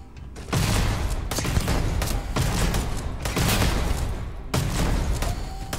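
Heavy-weapon gunfire in Starfield during a lair battle: sustained loud bursts in several long volleys separated by brief gaps, booming and dense, with no talking.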